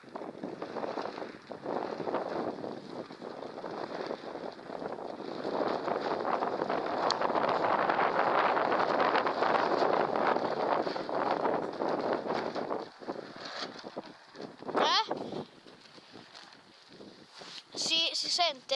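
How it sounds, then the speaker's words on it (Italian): Strong outdoor wind in Tuscany buffets the microphone with a loud, continuous rumbling roar that swells through the middle, while a person talks over it. "non è che è un tornado, c'è tanto vento"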